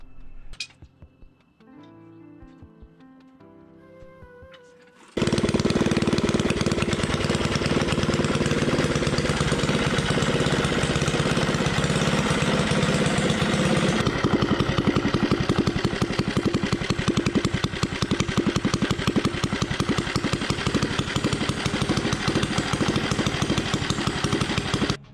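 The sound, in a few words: 98cc engine with billet flywheel and aggressive cam running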